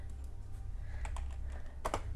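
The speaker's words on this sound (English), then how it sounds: "Let me finish typing that in." Someone types on a computer keyboard, tapping out short irregular bursts of key clicks close up over a low steady hum, with no talking.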